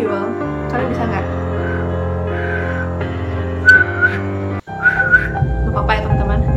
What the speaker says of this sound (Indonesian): aku nggak bisa bersiul, kalian bisa nggak?